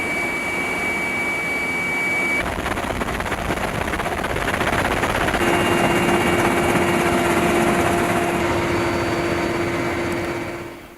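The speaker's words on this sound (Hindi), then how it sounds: "यह helicopter air to surface attack करने वाली मिसाइल से लोडेड है" Low-flying military attack helicopter armed with air-to-surface missiles and an automatic gun, a loud continuous rotor and turbine roar with steady whining tones, holding strong for about ten seconds before fading at the end.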